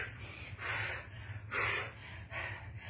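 Strong, forceful breaths pushed out during a dumbbell workout: several loud, close, breathy exhales in a steady rhythm over a low background hum.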